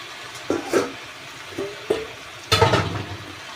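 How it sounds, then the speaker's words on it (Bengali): Spice paste being stirred with steamed taro stolons in a pan, a series of scraping, clattering strokes of the spoon against the pan, moderately close, with a busier scrape near the end and no talking. "মশলাটা মিশিয়ে নেব ভালো করে।"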